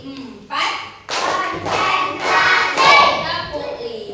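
Third-grade primary schoolchildren clap together in a classroom ice-breaker, several loud rhythmic bursts of group clapping close by, with children's voices mixed in.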